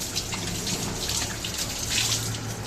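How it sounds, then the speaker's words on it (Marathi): Hands being washed under a running tap, a steady close rush of water with light splashing and spatter throughout, no one speaking. "बघा की बघा मी हात धुवून दाखवते तुम्हाला"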